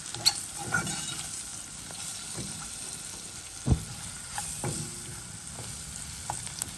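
Rougail stirred in a hot pan, a steady close sizzle broken by a few sharp scrapes and clicks of the spoon.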